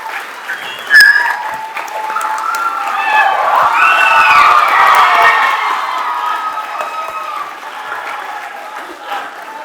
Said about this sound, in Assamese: আজি চব যে থিয় হৈ আছে এবাৰ চবে হাত চাপৰি মাৰক।